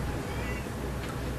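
A single cat's meow, fairly close and brief, heard over steady room noise during an interview with a band singer.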